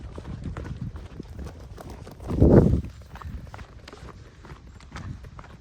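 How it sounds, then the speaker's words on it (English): A goat's hooves patter and clatter as it runs and jumps down a mountain hillside while camping in Turkey, with scattered light footfalls and one heavy thudding burst midway, fairly close. "absolutely loves to throw herself down the hill and do what we call goat zoomies"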